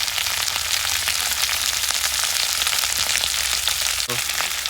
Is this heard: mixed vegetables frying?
yes